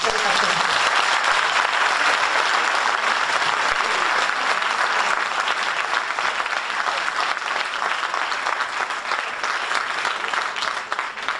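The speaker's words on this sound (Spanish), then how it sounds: "Les pido pues un aplauso para dar la bienvenida a nuestros dos invitados." Loud, sustained audience applause welcoming two guests at a literary talk on Almudena Grandes' novel, steady and close for about eleven seconds with no voices over it.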